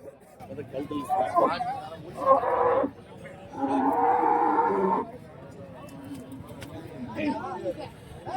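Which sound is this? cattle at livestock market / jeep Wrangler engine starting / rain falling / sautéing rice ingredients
cattle at livestock market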